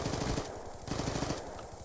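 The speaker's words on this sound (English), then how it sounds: "This gun is supposed to be silenced, and it's not" Unsilenced automatic gunfire in Call of Duty: Black Ops 2, loud close bursts of rapid shots with a brief pause between them, with no talk.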